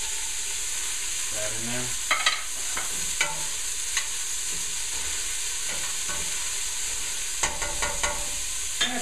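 Four garlic cloves frying in olive oil, with a steady sizzle and scattered scrapes and clinks as they are stirred; a voice speaks briefly over the cooking.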